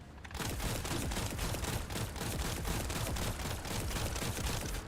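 Sustained hip-fire gunfire in a shooter game, a steady rapid stream of shots hammering evenly for several seconds, loud and unbroken.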